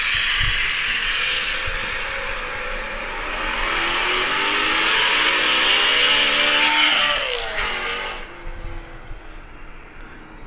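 A BMW M3 with an aftermarket exhaust revs hard nearby, the engine note climbing and holding for several seconds before dropping off sharply as the throttle closes.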